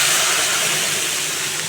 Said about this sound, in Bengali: এবার নেড়ে চেড়ে একটু গরম জল দিয়ে দিচ্ছি